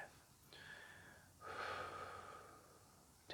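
Two slow, deep breaths taken close by in a quiet room, a shorter airy inhale followed by a longer, louder drawn breath, with no talking.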